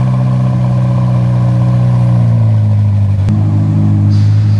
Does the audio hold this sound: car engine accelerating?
yes